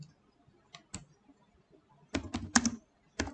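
Keys clatter on a computer keyboard while HTML code is typed, with a few sparse clicks followed by a quicker burst of close, crisp keystrokes.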